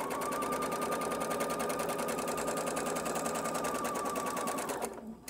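A sewing machine runs steadily for about five seconds, stitching darts on a jacket, with a fast even mechanical whir close by before it stops abruptly at the end.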